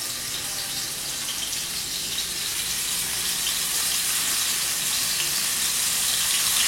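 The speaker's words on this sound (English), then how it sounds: "So you can hear them sizzle." Scallops searing in olive oil in an uncrowded pan give a steady, close, bright sizzle that holds evenly and grows slightly louder throughout, with no voices.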